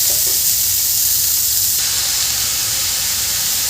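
Spinach wilting in an uncovered pan for palak soup, giving a steady, close sizzle and hiss of steam throughout with no talking.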